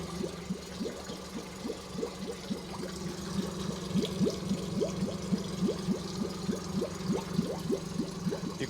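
A 2024 Suzuki DF25A outboard motor idles steadily just after its first start, a smooth, even mid-pitched engine drone with a regular pulsing rhythm, close by, alongside a faint wash of water.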